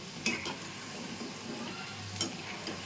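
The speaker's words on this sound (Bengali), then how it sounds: "একইভাবে ভেজে নেব।" Murali (gaja) dough pieces frying in oil make a soft, continuous sizzle, with a couple of sharp utensil clinks against the pan and no talking.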